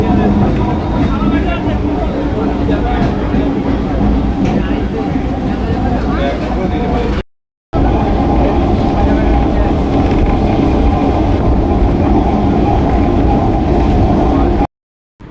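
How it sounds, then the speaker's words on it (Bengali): A passenger train pulls out of Krishnanagar City Junction, a loud, steady rumble and clatter heard from on board that continues throughout, interrupted by two brief moments of silence. "ফাইনালি আমাদের ট্রেনটা কৃষ্ণনগর সিটি জংশন থেকে ছেড়ে দিল"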